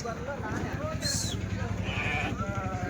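Sheep bleat in brief calls amid the bustle of the weekly sheep and goat market at Kadiri, while people talk close by.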